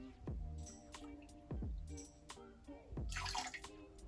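Lemon juice is poured into a cocktail in quiet, close drips and plops at a slow uneven rhythm, ending with a brief, brighter splashy trickle.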